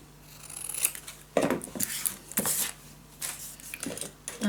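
Craft scissors snip through paper, giving a few sharp, close cutting strokes with short pauses between them and quiet handling noise in between, with no speech.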